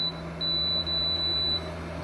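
Vortex HALO bladeless desk fan beeping as its speed is stepped up, a string of short, clear, high electronic beeps over the fan's steady low hum, with no talk.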